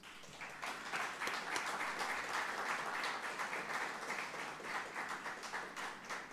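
An audience at an informal legislative session claps for Roberto, a doctor in the room: a sustained, fairly distant round of many hands applauding, even and unbroken throughout.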